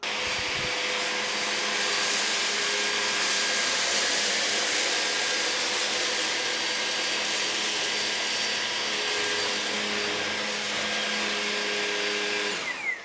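Levoit LVAC200 anti-tangle vacuum cleaner in turbo mode, a loud, steady high whine and rushing airflow that runs without a break, ending in a brief drop at the very end with no talk.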